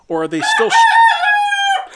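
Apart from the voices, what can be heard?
hens clucking and crowing in a coop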